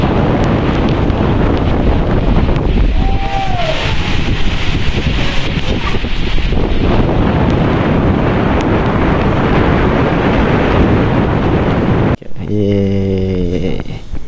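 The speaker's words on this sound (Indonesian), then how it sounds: "Nah setelah itu ada angin kenceng banget." Strong wind roars continuously at Telaga Sarangan lake, buffeting the microphone with loud, rumbling gusts for a long stretch before it abruptly cuts off.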